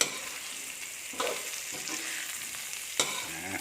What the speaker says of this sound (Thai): ผัดเข้ากัน